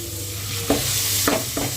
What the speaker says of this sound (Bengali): দিয়ে ভালোভাবে পেঁয়াজ, আদা রসুনের সাথে মশলাগুলো মিশিয়ে দিচ্ছি।